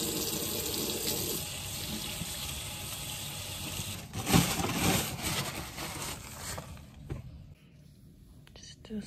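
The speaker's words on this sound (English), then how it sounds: "I'm gonna wash my hands so I can eat." Water running steadily from a tap into a sink during handwashing, a continuous close splashing rush with faint low murmuring, then it thins and stops near the end.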